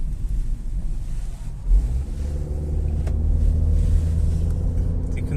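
A 2009 Vauxhall Astra 3-door sport hatchback pulls away from inside the cabin, its engine note rising smoothly as a close, loud low rumble with steady road noise underneath.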